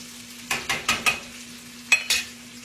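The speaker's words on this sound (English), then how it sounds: "We've got our sausage cut up, and we're sauteing those. And we're going to saute 1 onion." Cut sausage and one onion sautéing in olive oil in a pan, with short bursts of sizzle and stirring scrapes coming in clusters over a quiet background hum, close by and with no talking.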